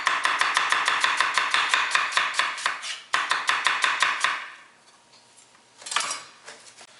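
A stamped Santoku knife chops food on a board in a quick, even run of sharp knocks, then a short pause, a second rapid burst, a quiet gap and one last scrape or clatter.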